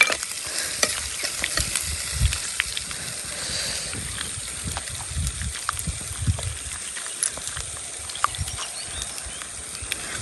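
Curry stirred in a pan over a cooking fire outdoors on a hill, a steady soft scraping and sizzling with frequent small clicks of the spoon against the pan, continuing close and unbroken with no talk.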